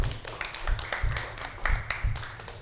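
Applause from a crowd at a talent festival results ceremony, a short, fairly dense patter of clapping with uneven bursts and low thumps underneath.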